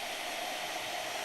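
A hair dryer runs loudly in a studio, a steady, unbroken airy roar that holds constant throughout with no talk.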